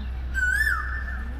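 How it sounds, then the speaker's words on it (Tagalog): A bird gives a single wavering, whistled call lasting about half a second during a typhoon in Hong Kong. The call is fairly close over steady storm noise, and a thin tone lingers after it. "Ayan, nagagalit yung ibon."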